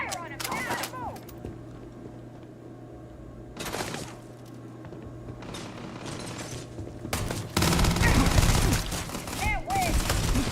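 Gunfire in the video game Starfield comes in bursts of rapid shots, separated by quieter gaps with voices shouting and talking amid the fighting.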